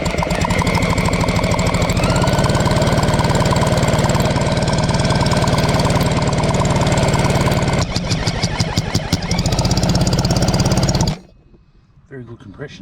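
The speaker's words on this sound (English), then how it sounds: "She's 15 horsepower Chrysler." An old, abandoned 15 horsepower Chrysler outboard boat motor runs loud and close with a rough, rapid knocking beat, then sputters, slows and cuts out near the end, leaving near silence.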